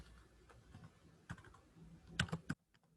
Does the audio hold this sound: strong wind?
no